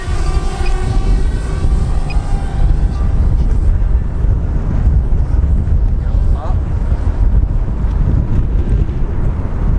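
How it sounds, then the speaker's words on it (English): Strong wind buffets a microphone outdoors beside a flying DJI Mavic Air drone, a constant loud low rumble filling the whole stretch with no talking. "So, it is very windy today."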